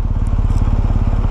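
A 1250 cc, 136 hp, 260 kg motorcycle being ridden during break-in, its engine thumping in a fast, even pulsing rhythm, loud and close throughout.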